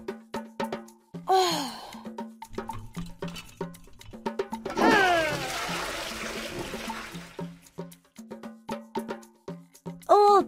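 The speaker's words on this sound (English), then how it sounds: "Can you help Tea reach the flush chain?" A cartoon toilet flush sounds in a kids' potty training game, a rushing gurgle of water lasting a few seconds, set among short playful clicks and chirpy sound effects.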